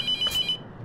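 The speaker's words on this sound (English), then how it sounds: "I'm not answering the damn phone." A telephone rings in the horror game The Mortuary Assistant, a short electronic ring burst that cuts off after about half a second, clear over quiet room tone.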